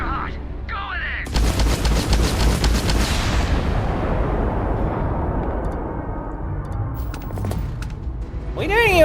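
Sci-fi gunfire and explosions from the video game Starfield, a dense burst of loud booming shots that fades into a long rumbling tail, with brief sharper cracks near the end.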